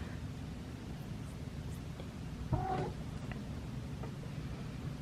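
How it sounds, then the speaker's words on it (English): A cat meows once, short and fairly faint, rising briefly above a steady indoor hiss of background noise, with no other sounds around it. "And we are being visited by the cat."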